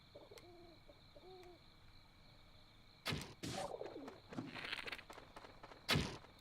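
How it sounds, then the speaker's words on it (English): Arrow shots at quails in Zelda: Breath of the Wild, where two soft cooing bird calls give way to a sharp bow release and a flurry of impacts and fluttering, ending with another crisp hit. "I believe that we can get our meat from shooting these little quails right here."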